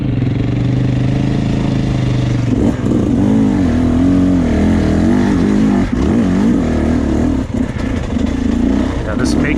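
A 2024 Beta 300 RR dirt bike engine revs and pulls while being ridden, loud and close, rising and falling with throttle changes across the whole stretch, a rider's voice mixed in among the engine noise.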